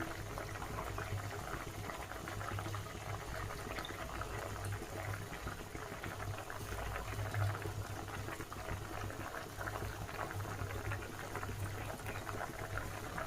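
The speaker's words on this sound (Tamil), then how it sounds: "புளி தண்ணியை ஊற்றி கொதிக்க விடலாம்" Tamarind water simmers in a pot of sambar, giving a steady, faint bubbling and gurgling that runs unbroken throughout, with no voices over it.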